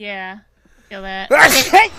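A person speaks briefly, then sneezes loudly and close to the mic in a sharp, forceful burst that trails into a second breathy gust.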